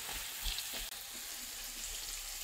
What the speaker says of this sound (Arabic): نخلط الدجاج مع البصل